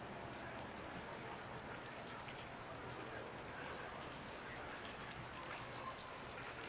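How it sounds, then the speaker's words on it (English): Rain falls steadily outside an aviation museum hangar, a soft, even hiss of drops that holds at a constant low level throughout with no voices. "As you see, it's raining today."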